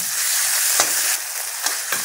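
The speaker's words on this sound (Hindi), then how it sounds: "अब इसमें हम होममेड पनीर इस्तेमाल करेंगे। एक से दो मिनट इसे भून लेना है।" Homemade paneer fries in a pan with a steady close sizzle, broken by a few sharp stirring scrapes.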